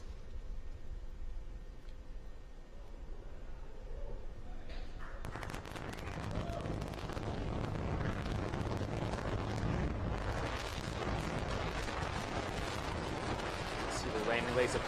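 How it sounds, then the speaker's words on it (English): A SpaceX Falcon 9 first stage fires its engine for the landing burn with a sudden deep, crackling rumble that begins midway and keeps building. Wind buffets the microphone, and a voice speaks over it. "landing burn has hit startup, and we have ignition"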